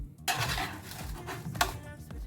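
Baked butternut pumpkin pieces are turned in a metal pan, giving close clinks and scrapes of utensil on pan with a couple of sharper knocks and a soft sizzle-like hiss underneath.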